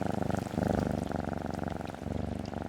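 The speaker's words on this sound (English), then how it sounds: "Loud purrs." A cat purrs loudly and close up in a steady rhythmic rumble, each breath pulsing evenly, with no other sounds.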